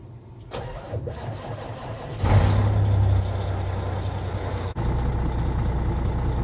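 Truck engine starting after its battery sat unused for a couple of days: a brief straining crank, then the engine catches and settles into a steady, close idle rumble, loud with no talk.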